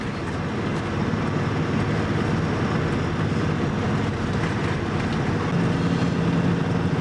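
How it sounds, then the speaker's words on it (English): Ore train passing near Menindee in outback New South Wales, Australia: a loud, continuous broadband rumble and roar of rolling wagons that holds steady throughout, close by, with no talk. "we've got an ore train"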